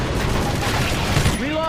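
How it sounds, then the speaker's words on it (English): Rapid gunfire in a zombie shooter game, with dense overlapping shots and booms under a busy game mix, as players fight armored zombies. "Shoot the armored zombies in the back!"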